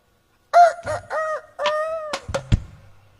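A person imitates a rooster's crow, a drawn-out rising and falling call, clear and close, with a few short bumps and knocks at the end.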